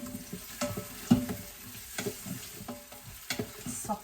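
Onion fries in a pan with a low, constant sizzle, broken by light clicks and scrapes of stirring close by.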